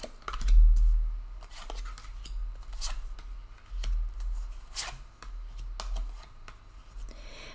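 Tarot cards being shuffled and dealt out in a reading, giving soft scattered rustles, flicks and slaps of card stock close by, with no talking.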